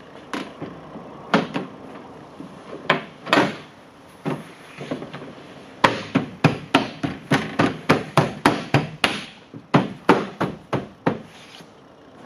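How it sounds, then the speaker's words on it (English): Plastic trim panel on a 2020 Hyundai Kona EV tailgate being pressed and snapped back into place, a series of sharp knocks and clip pops, sparse at first then a rapid run of evenly spaced snaps, close and alone. "I'm gonna put the big plastic trim panel back on."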